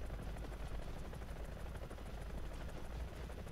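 A G Lynx helicopter flies in the War Thunder video game, giving off a steady, dense rotor and engine drone. The beating thrum holds constant and loud the whole way through, with no speech.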